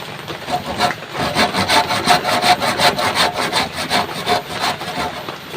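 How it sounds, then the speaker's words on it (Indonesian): A hand saw rasps through wood for a door frame in quick, regular back-and-forth strokes, loud and close, about two strokes each second. "Nah, bagian sini juga kita gergaji."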